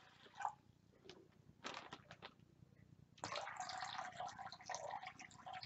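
Water pours from a dish into a bag on a scale, a soft close splashing and trickling that starts faintly and grows into a steady stream in the second half.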